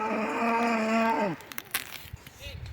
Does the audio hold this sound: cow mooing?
yes